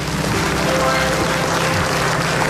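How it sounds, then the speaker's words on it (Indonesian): A studio audience on an Indonesian comedy talk show applauds in a dense, steady wash of clapping that fills the room, with voices faintly mixed in beneath it. "Tepuk tangan dulu dong untuk Budi Anduk."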